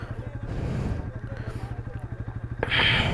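A motorcycle engine idling with a steady, throbbing low putter, then a louder burst as the ride gets underway, close by with some background clatter.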